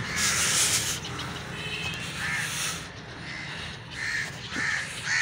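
Several crows in Pakistan caw repeatedly nearby, harsh calls overlapping in irregular bursts against a noisy outdoor background.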